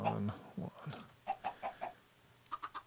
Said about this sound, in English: Getting some chickens going.